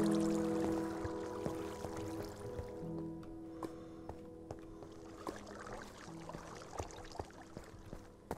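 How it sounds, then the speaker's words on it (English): Flowing water in the video game Minecraft: a soft, steady trickling and pouring wash with scattered small clicks, set over sustained tonal background sounds and heard alone without voices. "Water."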